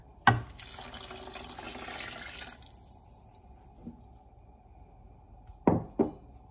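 Two cups of water pour into a pot holding four cups of apple cider vinegar for homemade relish, a steady splashing stream for about two seconds, followed by a few light knocks of a container being set down.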